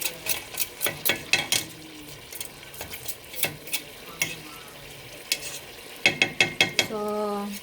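Adobo caramelizing in a pan while a utensil stirs it, giving a run of sharp, rhythmic scraping strokes over a soft sizzle, with a quick burst of strokes near the end.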